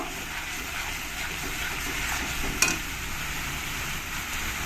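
Spices with salt and turmeric frying and being stirred in a pan for a mustard-paste pomfret fish curry: a continuous soft sizzling hiss with a single sharp utensil clink partway through and no voices.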